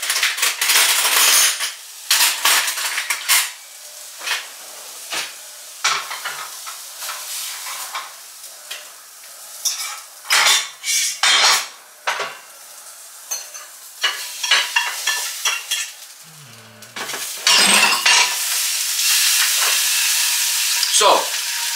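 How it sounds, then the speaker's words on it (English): Steak and asparagus being plated, with sharp clinks of cutlery against dishes, scrapes and taps in an irregular stream amid a background sizzle, close and fairly loud, no speech. "Let's plate this up."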